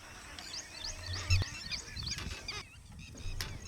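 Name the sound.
grey-headed swamphen calling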